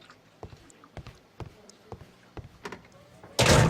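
A door in a Sherlock Holmes video game thumps repeatedly, several dull knocks spaced roughly half a second apart, followed by a sudden burst of loud noise at the end.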